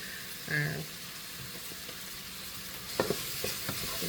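Couscous stir-fried in a pan with spices such as dry chili powder sizzles steadily, and a few scraping strokes of the spoon sound close by partway through.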